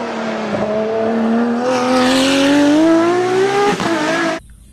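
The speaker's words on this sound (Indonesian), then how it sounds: "Ini adalah mobil Bugatti." Bugatti car engine revving, a loud close-up tone that climbs steadily in pitch over several seconds, then dips and cuts off abruptly.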